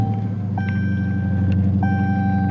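A 2020 Dodge Charger R/T with its HEMI V8 rumbles steadily at idle just after starting, a deep continuous engine drone with faint tonal whines above it and no talking.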